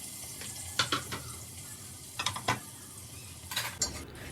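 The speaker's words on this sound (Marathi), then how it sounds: "तेल टाकल्यानंतर त्याच्यामध्ये हा कांदा परतण्यासाठी टाकून दिला" Chopped onion sautéing in oil in a pressure cooker, a low frying hiss punctuated by several clusters of sharp metallic scrapes and clanks as it is stirred.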